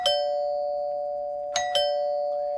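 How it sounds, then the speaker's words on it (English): A wired doorbell chime rings close and loud, a long sustained tone followed by two quick sharp strikes in a ding-dong pattern, with the pitch ringing on between them. "And that is how the ding dong works."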